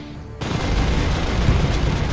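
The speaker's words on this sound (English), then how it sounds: "Fire the cannons at point blank range." Spaceship cannons in the Sunrider video game fire at point blank range, a dense, sustained roar of booming shots that swells in after a brief quiet start and keeps rumbling loudly throughout.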